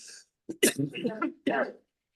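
A throat clearing followed by a couple of short coughs, close and fairly loud, with brief pauses between bursts.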